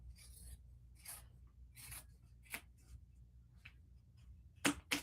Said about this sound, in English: And then I'm going to cut this side down.